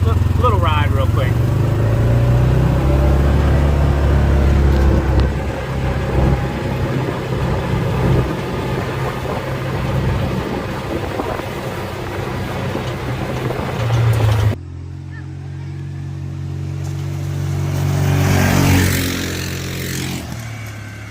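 A new UTV's engine runs steadily through a short ride around a 22-acre property, a loud continuous drone that shifts pitch as it drives, with people talking over it.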